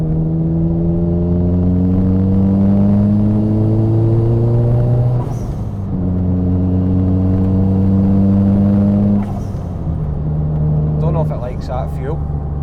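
A car engine lacking power and in need of setup revs unevenly, rising and dropping in pitch several times, rough and struggling, with a faint rattle near the end.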